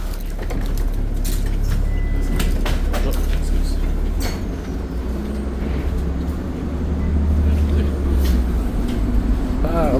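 A Laval STL bus on route 26 rumbles close by on a snowy day, its steady engine drone filling the scene, with clattering knocks and nearby voices.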